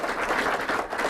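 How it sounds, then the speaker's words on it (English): An audience claps for presenters at the close of a housing-market talk, a brief, dense patter of applause heard at moderate distance. "I'd like to give our presenters a huge round of applause for 3 great presentations."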